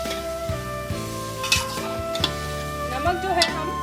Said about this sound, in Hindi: नॉर्मल आंच पे इसको हम कम से कम 10 मिनट के लिए अच्छे से भून लेंगे